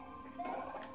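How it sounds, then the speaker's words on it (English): A person clears their throat once, a short, close, fairly quiet raspy gurgle with no speech around it. "Sorry, I just need to clear my throat."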